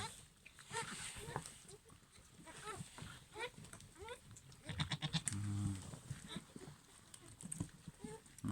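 A goat bleats a few times at moderate distance amid sheep and lambs being fed, mixed with someone talking nearby and general pen noise.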